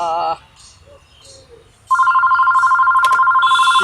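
Telephone ringing with an electronic ringtone, a loud, steady warbling tone that starts abruptly after a short burst of voice and continues without pause, with a brief sharp click partway through.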